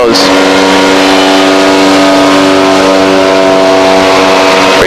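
A Cessna 185's engine runs at full throttle through the takeoff roll, a loud, steady droning roar with strong even harmonics that holds for the whole stretch, with some talk over it.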